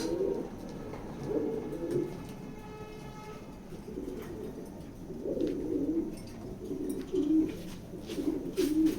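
Grizzle pigeons in a loft coo repeatedly in soft, rolling bursts close by, with a low steady background hum throughout.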